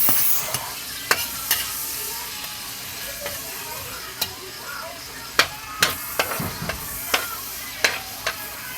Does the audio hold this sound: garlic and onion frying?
yes